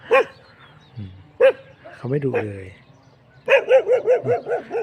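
A dog barks at a stranger: a few separate loud barks and a whimpering yelp, then a quick burst of rhythmic barking, while someone talks in between.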